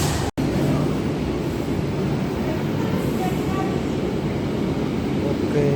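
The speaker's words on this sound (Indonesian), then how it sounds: "ini bukan kereta KRL tapi kayaknya antar kota, antar provinsi" An intercity train at a station gives a steady, loud rumbling roar with broadband rail noise that holds evenly throughout, broken only by one brief dropout near the start.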